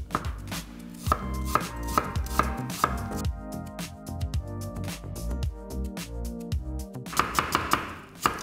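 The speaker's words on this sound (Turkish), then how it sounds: "Elmalarımızı ince ince dilimleyeceğiz." A knife chops steadily through apples on a cutting board, quick close rhythmic thin slices with a brief pause midway and a faster flurry near the end.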